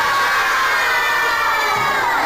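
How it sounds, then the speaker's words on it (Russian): A fourth-grade class of schoolchildren cheering in a classroom, a dense sustained roar of excited high shouts and screams, loud and continuous throughout. "Новости пятидневки в 4В встречают восторженными криками."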